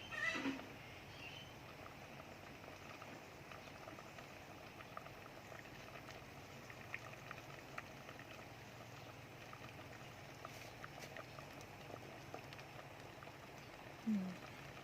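A pot of Thai sour curry (kaeng som) with mixed vegetables at a steady low boil, its soft continuous bubbling quiet and close throughout, with a faint brief voice near the end.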